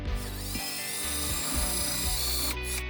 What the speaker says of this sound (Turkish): Jelatinimizi uygulamadan önce bir kez daha çırpacağım arkadaşlar.